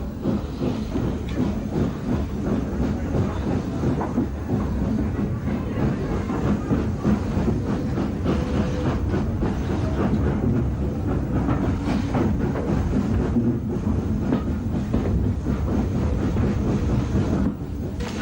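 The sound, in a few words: N15X class steam locomotive 32329 Stevenson on railway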